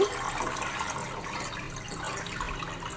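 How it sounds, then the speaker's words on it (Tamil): Cold water pours from a tap over fresh green peas sitting in a sieve to cool them after blanching, a steady broadband splashing hiss running unbroken and fairly quiet throughout. "பச்சை பட்டாணி மேலே தண்ணி ஊற்றிக்கிறேன் நான்"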